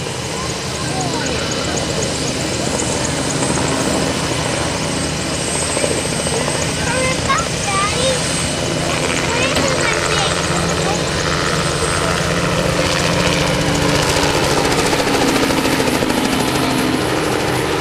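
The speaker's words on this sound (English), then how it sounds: "This aircraft uses a reciprocating engine similar to your auto engine." A Robinson R44 helicopter's 145-horsepower four-cylinder gasoline piston engine runs steadily and loudly up close, with a constant throbbing rotor chop throughout and a voice talking over it.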